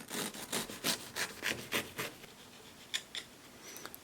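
A knife saws through a still-warm chocolate chip cake in a series of rhythmic rasping strokes, close and fairly quiet, followed by a few lighter scrapes.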